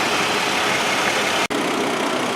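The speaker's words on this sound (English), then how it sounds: "now we heard the truck running for a little while" A truck engine idles with a constant low rumble, close by and loud, briefly cut off for an instant midway.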